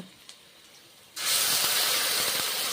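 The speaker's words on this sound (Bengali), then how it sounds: "পেঁয়াজগুলো ভেজে নিচ্ছি" Onions hitting a hot pan erupt into a sudden loud hissing sizzle after a quiet start, then sustain a bright, even frying crackle to the end.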